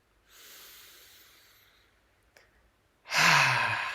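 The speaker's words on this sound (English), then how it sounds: "Please take a deep breath with me." A deep breath during a guided meditation: a soft, drawn-out inhale, a short pause, then a loud, breathy exhale close to the microphone.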